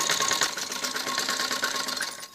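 A sewing machine stitches along the edge of a kameez back neck, its steady rapid mechanical whir running loud and close for the whole stretch with no talk.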